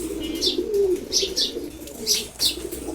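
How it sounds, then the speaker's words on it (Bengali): A female pigeon coos in repeated low, throaty phrases, close and fairly clear, with a few brief higher chirps between the coos and no voices. "অসাধারণ একটা মাদি কবুতর"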